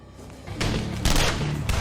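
Gunfire in the action movie Silencer: a rapid burst of loud, close shots breaks out after a quieter start, with several sharp cracks and booms running on to the end, no talking over them.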